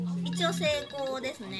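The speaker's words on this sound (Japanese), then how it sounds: "あ、すいません、あの僕に電話入っちゃったんですけど" A phone rings with an incoming work call, a steady electronic tone sounding near under ongoing conversation during an indoor talk session.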